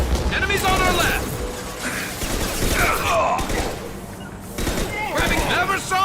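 Combat gunfire in the Mass Effect 2 video game: repeated shots and impacts with occasional booms, loud and steady, mixed with voices calling out during the firefight.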